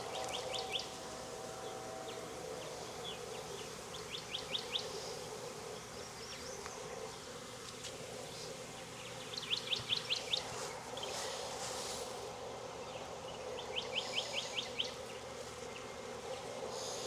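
Honey bees hum around a swarm being hived in Jacksonville, Florida, making a steady low drone with no talk, while small birds chirp in short repeated bursts in the background.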